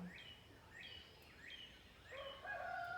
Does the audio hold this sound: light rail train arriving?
no